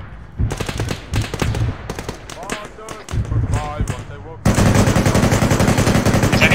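Rapid gunfire from the Arma 3 military shooter crackles in bursts under excited voices, then a loud sustained automatic volley takes over near the end.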